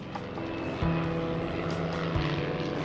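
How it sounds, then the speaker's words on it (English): An aircraft engine from an air battle sound effect drones steadily, its propeller hum shifting pitch partway through, loud and continuous with no voices. "An air battle. Flak. A plane on fire."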